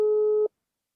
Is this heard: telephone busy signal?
yes